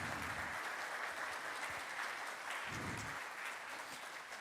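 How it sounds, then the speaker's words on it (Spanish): A church congregation gives a warm round of applause for its young people during a Spanish-language service, steady dense clapping filling the room throughout with no talk over it. "queremos darles un fuerte aplauso a nuestras nuevas generaciones"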